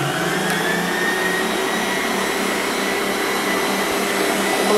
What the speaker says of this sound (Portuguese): Agora, eu vou ligar novamente a minha batedeira.